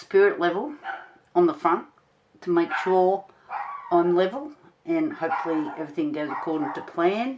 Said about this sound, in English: That noise you can hear in the background is my little dog that's been yapping all day.